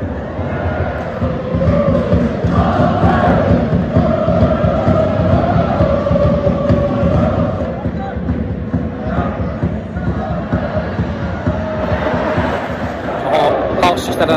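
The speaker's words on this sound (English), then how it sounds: "Home crowd really livened up now. I mean, opposite, they're hardcore singing and in that corner beating the drum." Home football crowd at Motherwell's wooden-stand stadium, singing and cheering during a match against Hearts with a drum beating in one corner, a broad sustained roar heard under close talking throughout.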